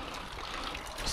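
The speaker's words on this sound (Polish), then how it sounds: "opłuczemy go tutaj" A small scrap-metal find pulled by a neodymium magnet is rinsed under running water, making a faint, steady trickle and splash nearby, heard alone for about a second.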